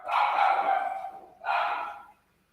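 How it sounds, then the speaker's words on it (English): A dog gives two barks close by, a long one followed by a shorter second bark after a brief pause, with nothing else heard. "My dog agrees."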